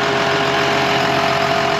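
A John Deere 6920 tractor engine runs steadily while ploughing a field for rapeseed, a constant, loud mechanical drone with a low rumble and a sustained whine, no pauses or changes in pitch.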